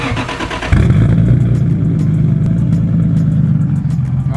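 A 2JZ-swapped Datsun 260Z cranks briefly, then fires into a loud, close, rumbling idle that holds steady with a rough, throbbing pulse.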